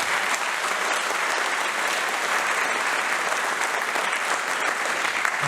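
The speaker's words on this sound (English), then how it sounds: "Please give her a big round of applause." A concert hall audience at a live show gives a big round of applause. The thick, even clapping stays loud and steady from start to finish, with no talk over it.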